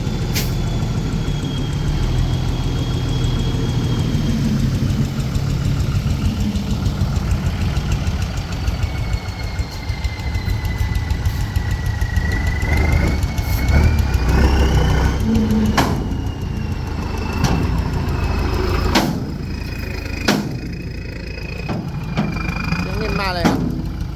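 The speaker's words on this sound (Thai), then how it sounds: "โอ้เสียงนิ่มดีเว้ย เสียงนิ่มดีนะ ลูกสูบเหล็กเนี่ย" An engine fitted with steel pistons idles nearby with a loud, steady, low rumble and a faint knocking beat. Voices talk over it now and then, and a few sharp clicks and knocks sound near the end.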